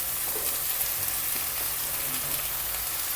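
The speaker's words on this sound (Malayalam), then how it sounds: "ഇതിലോട്ട് ഈ അരിഞ്ഞു വെച്ച കിഴങ്ങും ഈ പീച്ചിങ്ങയില്ലേ, അതും ഇട്ട് കൊടുക്കുക" Diced potato and ridge gourd sizzle steadily in a pan for a thoran stir-fry, a dense, even crackle that holds at a constant level throughout with no voices.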